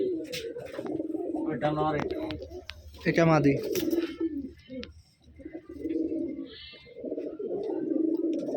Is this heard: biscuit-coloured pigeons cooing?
yes